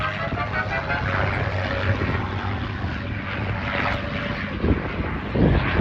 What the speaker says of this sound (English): A familiar whine, whistle you get there of the air going over the gun ports, just like blowing over the top of a bottle.